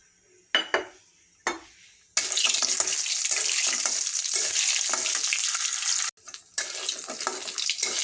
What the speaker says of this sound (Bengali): তেলটা গরম হয়ে গেছে, এবার আমি কুমড়ো বড়িগুলো দিয়ে ভেজে নেব।